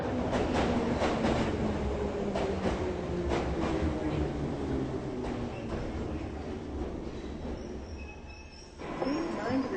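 A train rumbles and squeals along rails with clanking bursts, its wheels grinding loudly before the noise eases near the end.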